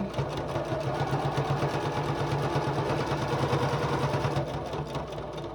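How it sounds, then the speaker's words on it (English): A sewing machine stitches binding onto a gingerbread star table topper, running at a steady, rapid mechanical chatter with a low hum. It sounds loud and close and stops just before the end. "Now when we stitch, we're going to stitch right to that point right there."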